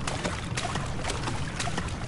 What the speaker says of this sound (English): So, am I going to affect the flow of water here?